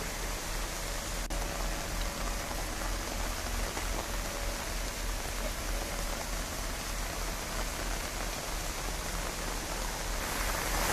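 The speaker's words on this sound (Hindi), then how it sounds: "पहाड़ों पर मूसलाधार बारिश हो रही है" Torrential mountain rain pours down steadily and loudly, a dense unbroken hiss of drops close by for the whole stretch, with no voices.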